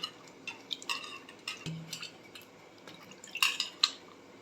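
Boiled raw mango mixture being mashed by hand, soft wet squelches and occasional clicks against a bowl, intermittent and quiet, close up.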